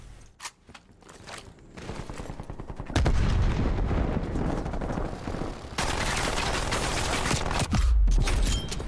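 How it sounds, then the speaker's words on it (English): A machine gun fires in Call of Duty Black Ops Cold War multiplayer on PS5, building from scattered shots into sustained, loud, rattling automatic fire mixed with other gunfire and no speech. "that damn machine gun got me"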